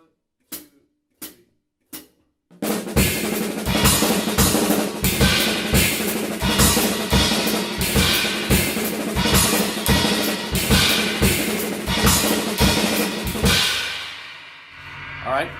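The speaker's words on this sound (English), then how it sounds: "So I'm going to do one of the notes on the crash and one on the splash" Drum kit in a fusion pattern, a few separate hits, then a dense driving groove with crash and splash cymbals washing over steady beats, loud and close before fading out.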